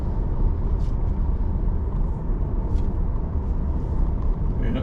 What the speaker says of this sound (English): I'm driving an Acura.